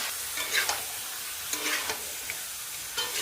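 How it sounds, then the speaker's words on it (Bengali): Duck meat frying with spices in a pan, a steady sizzle under short stirring scrapes and clatters, close and moderately loud. "মশলা কষিয়ে মাংস দিয়ে দিলাম"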